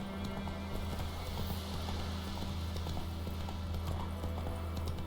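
Horse galloping in The Witcher 3: Wild Hunt, a steady, rapid clip-clop of hooves that runs throughout, moderately loud against a low background hum.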